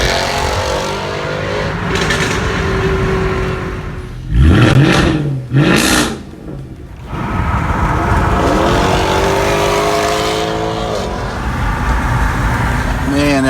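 Sports car engine revving, with a steady motor drone that surges into two sharp, loud rev bursts midway before settling back to a running hum, with voices at times.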